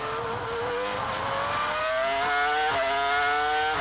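A 2004 Formula 1 race car at high revs through a corner, its engine pitch climbing steadily in a loud, continuous scream that holds close and dominant throughout.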